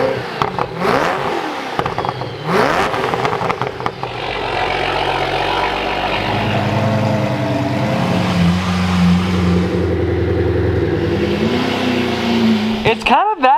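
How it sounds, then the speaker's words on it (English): A Koenigsegg Agera engine, stripped of its modifications, revs loudly at close range over a steady idle, with the pitch rising and falling through several swells; people talk over it at the start. "We're gonna let her warm up and then we'll rev again."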